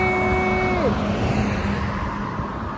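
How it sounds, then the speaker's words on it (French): An out-of-service city bus on a street near a tram stop rolls past close by with a loud engine rumble, a brief tonal whine that drops in pitch as it goes by, then a fading road roar. "c'est un bus qui est pas en service"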